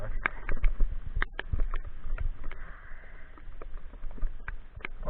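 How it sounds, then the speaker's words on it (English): Rain falling outdoors during a magnet fishing outing, scattered close patters and taps over a soft steady hiss, moderately loud with no talk. "It's raining actually now and not drizzling"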